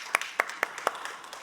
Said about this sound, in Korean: 이렇게 영광의 박수 올립시다.